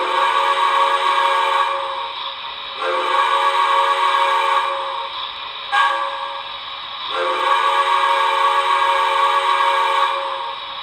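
An MTH Premier streamlined model train sounds its crossing whistle: two long blasts, a short one and another long one, bright, chord-like and close, with no voices.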